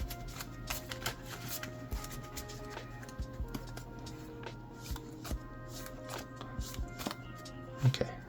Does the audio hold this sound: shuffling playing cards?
yes